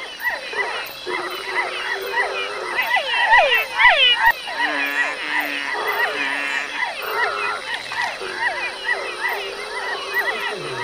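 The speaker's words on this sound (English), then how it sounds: "this is the great frog choir which you can hear when hundreds of different frogs and toads come together" A dense chorus of frogs and toads croaking together, overlapping rhythmic calls rising and falling steadily, with no voices.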